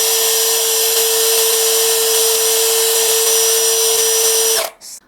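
A KEELAT 3-in-1 cordless impact drill spins at its second speed setting, a steady, loud high-pitched whine with motor hum held for several seconds, then cut off abruptly as the drill stops.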